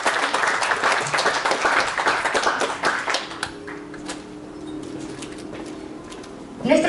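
Audience at a school graduation ceremony for Generation 2020 secondary-school graduates applauds in a sustained burst of clapping that thins out after a few seconds, leaving faint room sounds with occasional pigeon-like cooing.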